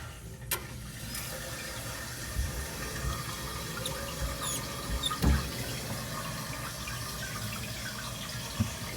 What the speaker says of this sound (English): The fill valve is now filling up the toilet tank.